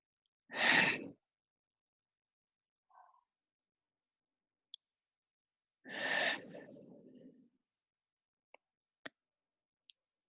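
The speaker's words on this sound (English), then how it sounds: "And here, taking a few deep exhales." Two deep, breathy exhales during a guided relaxation session, one near the start and a longer one midway, each standing alone in an otherwise quiet room with a few faint clicks between them.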